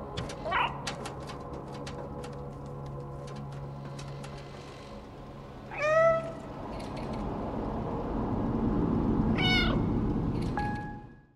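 A cat in the video game Stray meows at a surveillance camera in a slum, giving three clear separate meows spaced several seconds apart over a humming, mechanical background that swells slightly toward the end.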